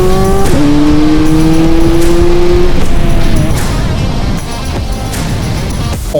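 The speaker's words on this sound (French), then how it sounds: "C'est une montée en régime interminable qui vous arrache le souffle, accompagnée par une sonorité exceptionnelle qui se transforme" Ferrari 430 Scuderia V8 revving hard to high rpm, one long rising wail of engine note with a crisp gearshift, loud and close, then settling into a steady higher drone.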